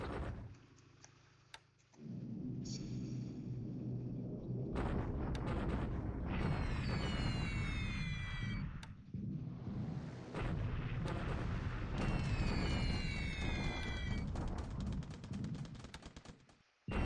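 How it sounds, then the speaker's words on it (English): Anti-aircraft flak fire in the War in the Pacific naval air combat game: loud, sustained booming bursts and crackling barrages, with sharp ticking and falling whistles, pausing briefly between volleys. "All right, we've got some decent flak here."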